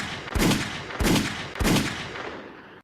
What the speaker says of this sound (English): DJ, please hit my motherfucking drop. All right, then. Now, gunshot.